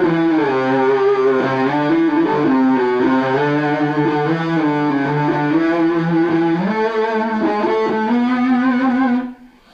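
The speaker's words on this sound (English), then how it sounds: "I was using a phase pedal then, yeah, which is one of the effects which I do like to use on stage" A Red Special electric guitar played through a phaser pedal holds loud, sustained, cello-like notes with a slow sweeping tonal swirl, then cuts off abruptly at the end.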